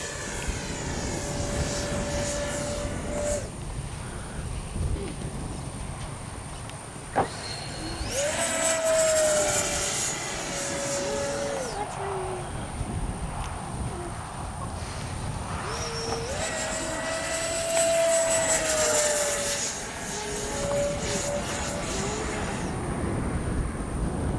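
A small Freewing 70mm Yak-130 RC model jet engine whines and whooshes as it passes repeatedly, rising and falling in pitch with each fly-by, over steady wind noise.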